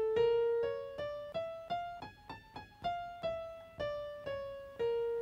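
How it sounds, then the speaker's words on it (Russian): A plucked, harmonically rich melody of about eleven notes steps up and back down through an Arabic scale, each note decaying before the next, with no voices. "то арабский скейл звучит вот так"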